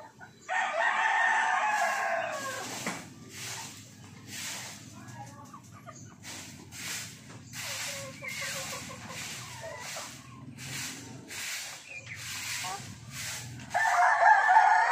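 Chickens and roosters on a farm, with repeated loud crowing near the start and end and a steady bed of clucking and scratching in between, close by, under no talk.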